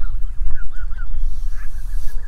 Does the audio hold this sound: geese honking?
yes